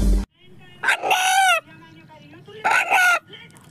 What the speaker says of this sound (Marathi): अण्णा या नावाने हाक मारणारा कोंबडा पाहिला आहे का?